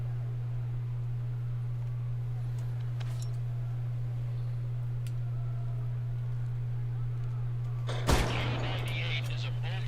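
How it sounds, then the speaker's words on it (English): One sharp, loud report from a K98 bolt-action rifle fired in the VR game Medal of Honor: Above and Beyond, heard near the end over a constant low electrical hum. "K98 is a bolt-action rifle, so you reload by pulling and pushing the bolt after each shot."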